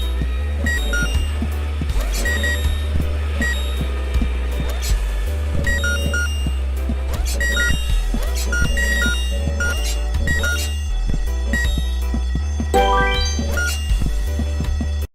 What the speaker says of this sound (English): The ear-splitting sound was the fire alarm.